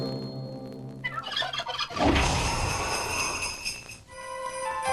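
A farm turkey gobbling loudly and nearby, a rapid rattling burst of warbling calls, with another sustained tonal animal call before it and after it.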